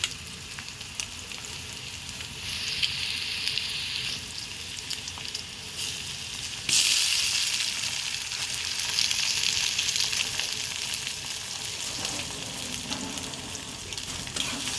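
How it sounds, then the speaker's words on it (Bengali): An egg stirred and frying with onion, chili and turmeric in a pan before boiled greens go in, a continuous close sizzle with stirring and a sudden louder surge midway, no voices. "ডিমটা দিয়ে এভাবে ভালো করে নিয়ে নেড়ে চেড়ে নেব"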